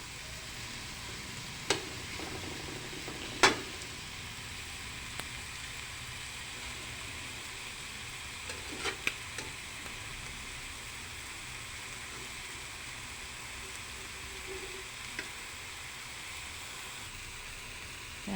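Sautéed bitter gourd with tomato and egg sizzling in a pan as it is stirred; a continuous steady hiss with a few faint clicks of the utensil, no voices.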